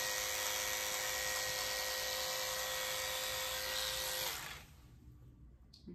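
Electric dog clippers fitted with a 40 blade running on a poodle puppy, a loud steady high-pitched buzz close by that cuts off sharply near the end, leaving only faint handling noise.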